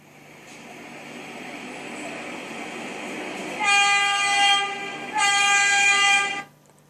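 A subway train horn in the Trainz train simulator sounds two loud, near blasts of about a second each over a steady rumble of the running train.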